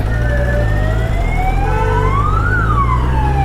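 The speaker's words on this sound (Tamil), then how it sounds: "ஆம்புலன்ஸ் வேறு வேகமாக வருது" Ambulance siren wailing and sweeping in pitch over the steady rumble of heavy traffic at a busy flyover, loud and continuous with no talk.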